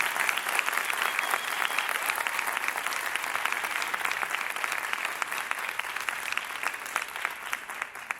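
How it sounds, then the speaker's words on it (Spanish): A live audience at a podcast recording of the Latin music show Sudacas applauds the artist with sustained, even clapping and a faint crowd murmur throughout. "un aplauso gigante, enorme"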